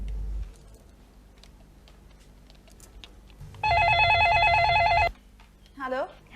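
A telephone rings with a loud, steady electronic trill lasting about a second and a half, then stops, with faint room sound and a brief voice afterward.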